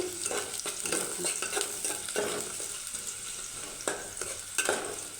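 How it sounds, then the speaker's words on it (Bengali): Chopped onions fry lightly in hot oil in a pan for a vegetable kabsa, a constant sizzle with occasional stirring scrapes and clinks close by, no voices. "এটাকে হালকা একটু ভেজে নিব"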